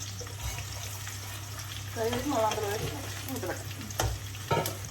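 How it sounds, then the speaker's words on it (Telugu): Onions fry in a kadai for veg biryani, a steady close sizzle with stirring scrapes and a couple of sharp clinks, while a voice talks over the middle and a low hum runs beneath. "ఈరోజు వెజ్ బిర్యానీకి ఆనియన్స్ ఫ్రై చేసుకుంటున్నాం"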